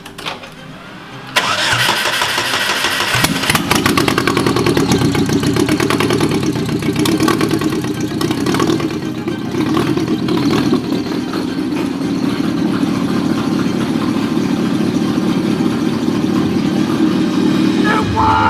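DF Goblin kit car engine starting up and then running at a steady, loud, rough idle close by, continuing without pause after the initial crank.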